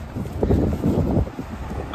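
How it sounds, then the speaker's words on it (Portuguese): Strong wind buffets a microphone at the seaside on Beira-Mar avenue in Ilha Comprida in the late afternoon, a steady rumbling roar with gusty swells throughout. "Olha o vento."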